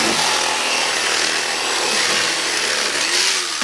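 A knife slices meat from a 25-pound flathead catfish, making a continuous close scraping and rasping rub that stays steady throughout.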